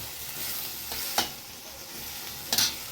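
Potatoes stir-fried in a pan with greens about to be added, a steady low sizzle broken by two brief scraping clatters of a spatula, close and fairly quiet.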